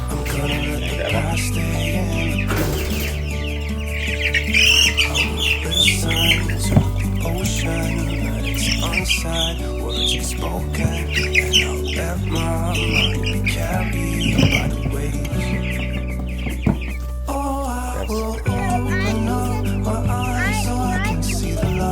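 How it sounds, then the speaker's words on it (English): Cornish Cross meat chickens cluck and squawk over a steady, loud background of layered music-like tones, the bird calls scattered throughout. "Should we go get the meat chickens?"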